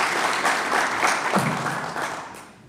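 A round of applause from the audience for the hosts at a public launch event for regulations, many hands clapping steadily and fairly loud, gradually thinning and fading toward the end.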